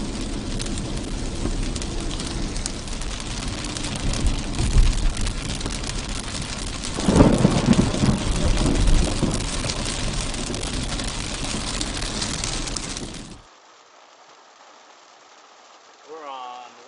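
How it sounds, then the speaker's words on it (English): Heavy downpour in a thunderstorm with lots of lightning, a loud continuous roar of rain with swelling rumbles midway, then cutting off abruptly near the end. "pretty good downpour. Lots of lightning."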